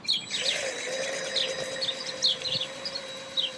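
A pet bird chirps close by, giving short, high, repeated tweets at irregular intervals over a steady faint tonal hum in the background.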